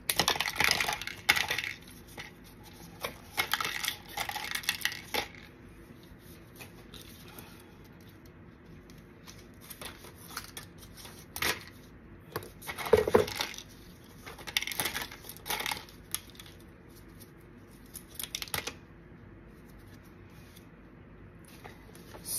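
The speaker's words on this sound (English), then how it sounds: "I'm gonna cut them in the cup because there's little beads on here" Scissors snip resin pieces studded with little beads over a cup, giving sharp irregular clicks and small rattling taps in scattered bursts, with quieter stretches between them.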